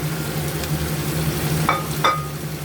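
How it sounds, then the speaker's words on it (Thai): Long beans, minced pork and glass noodles stir-fry in a pan, a continuous close sizzle broken by two quick scraping clacks of the utensil near the end. "ใส่ถั่วฝักยาวแล้วก็พลิกลงไปนะคะ"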